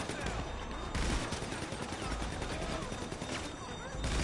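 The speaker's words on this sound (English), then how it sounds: "Who the fuck is shooting at me?" Rapid gunfire rattles almost continuously in GTA V, dense bursts of shots crackling loud and close throughout, with chaotic game noise layered underneath.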